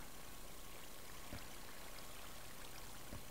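Water placed from a bucket flows in Minecraft, giving a steady soft rushing stream with a couple of faint clicks, low and continuous.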